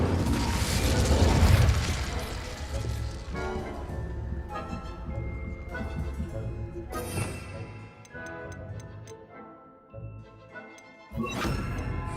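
An Incendio fire spell bursts in the game Hogwarts Legacy with a loud crashing whoosh at the start, followed by clicking, ticking mechanical game effects and tonal chimes, and a second sharp burst near the end.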